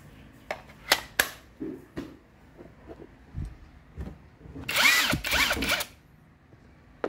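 A DeWalt XR 88-volt cordless impact wrench gives one loud whirring burst of just over a second, after scattered handling clicks and taps nearby.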